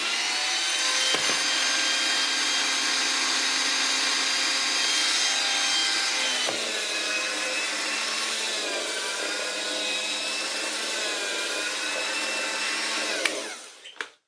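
A restored Hoover 5134 floor polisher runs with a steady, loud motor whine and hum, holds its speed under pressure, then is switched off near the end and winds down quickly to silence.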